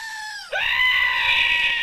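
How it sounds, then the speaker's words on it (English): A squeezable screaming pickle toy lets out a loud, sustained, goat-like scream, a single continuous wail that starts after a brief higher squeal and holds steady until the end. "It's like a more full goat scream."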